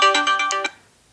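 A short phone alarm ringtone plays a quick series of bright, tonal beeps, close and clear, then falls silent.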